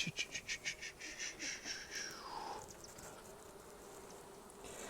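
A swarm of honeybees buzzes at a hive entrance as the bees settle in, a steady, moderately loud drone with pulsing, fluttering wingbeats early on that smooth into a continuous hum.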